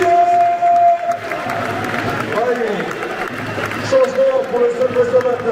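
Stadium crowd at a Brest–Rennes derby football match applauding a substituted player, a broad sustained roar of clapping and voices throughout, with a whistle-like tone and a public address voice mixed in.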